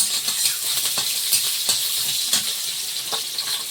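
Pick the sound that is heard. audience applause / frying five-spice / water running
frying five-spice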